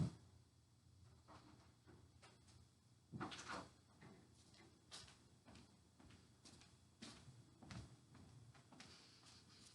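A classroom door is shut with a quiet thump, followed by a few faint knocks and shuffles in an otherwise hushed room.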